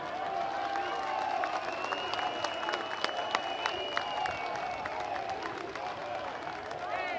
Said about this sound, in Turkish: Bir duyayım alkışları.